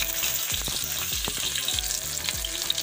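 Finely chopped garlic and green chilies fry in hot oil in a pan alongside coriander and fenugreek, a close, steady sizzle broken by rhythmic scraping strokes of stirring.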